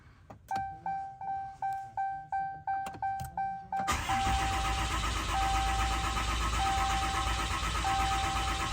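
Diesel engine of a 2016 RAM 2500 cranking in about seven rhythmic starter pulses with a high whirring tone, then catching and settling into a loud, steady idle.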